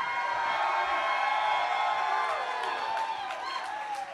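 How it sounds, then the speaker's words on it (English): A crowd at a beatbox battle semi-final in Canada cheers and applauds, a dense roar of clapping, whoops and shouts sustained across the whole stretch, fairly loud and close. "The judges want to hear the crowd reaction real quick."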